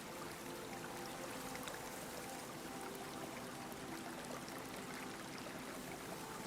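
Faster-moving water of a stream flowing steadily, a continuous broadband rush with no breaks, soft and even throughout with no voices.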